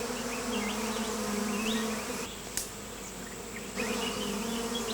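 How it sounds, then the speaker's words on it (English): Dense, steady buzzing of many bees close by at their nest, a loud swarming hum that dips briefly midway then swells back. "The bees have sensed I'm near and are creating a wave effect with their wings."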